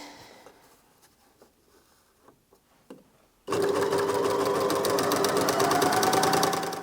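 A Janome MyLock 454D overlocker starts after a quiet stretch of faint handling taps, then runs fast and loud, a steady whirring stitch sewing through fabric.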